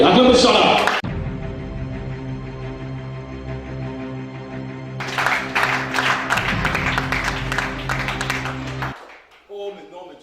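A church congregation at a Gabonese worship service breaks into applause and scattered clapping over sustained music, the clapping swelling midway and stopping abruptly.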